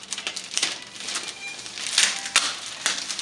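An X-Acto knife slices through heavy packing tape on a wrapped package, giving sharp scratchy cuts and tearing strokes in short irregular bursts, close by, with no talking.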